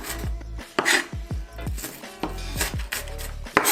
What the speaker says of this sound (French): ce que tu vas faire, c'est que tu vas tout simplement couper ton oignon